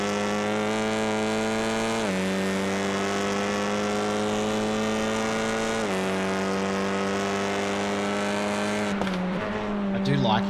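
Honda turbo touring cars race at Barber Motorsports Park in the iRacing video game. A loud, sustained engine drone dips briefly at each upshift, with a commentator's voice talking over the racing.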